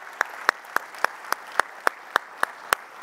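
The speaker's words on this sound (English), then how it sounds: "let's give her a big round of applause to everyone here" Clapping at a technology conference talk on OpenTelemetry, heard as a sparse, evenly spaced series of about eleven single sharp claps over a quiet room rather than a full crowd.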